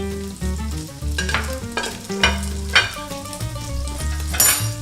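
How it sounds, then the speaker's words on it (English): Chorizo frying noisily in oil, a constant close sizzle broken by the scrape and clatter of stirring in the pan. "I can smell the chorizo cooking already."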